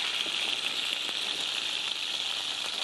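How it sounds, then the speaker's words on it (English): Goat meat fries in sizzling coconut oil in a pan, a steady close crackling hiss with faint scattered pops and no talk. "it is coconut oil that is sizzling in that pan"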